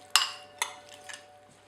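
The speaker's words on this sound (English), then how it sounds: "So pine nuts in, and then just give it a stir." A spoon clinks against a bowl a few times while pine nuts are stirred into a chunky lemon salsa, with two sharp knocks and softer scraping taps close by.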